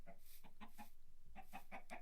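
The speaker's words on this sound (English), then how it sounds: "I have chickens in this room that are just kind of hanging out" Minecraft chickens clucking in an indoor coop room, a quick run of soft repeated clucks in two short bursts, fairly faint and close, with no talk over them.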